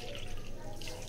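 Water is poured into a bowl, a soft, steady trickling splash heard close but fairly quiet for just over a second, with no talking.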